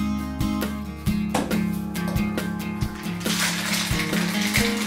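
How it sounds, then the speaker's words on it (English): Cocktail ingredients, including elderflower liqueur, rattle and slosh inside a capped shaker in a brief burst of vigorous shaking near the end, over steady background music. "I'm gonna cap it off and give it a good shake"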